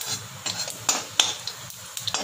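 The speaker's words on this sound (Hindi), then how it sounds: "तेल गरम हो जाए तो इसमें मैं डालूंगी जीरा" Cumin seeds sizzling in hot oil in a pan, a light crackle under repeated scraping and clinking strokes of a spoon against the pan.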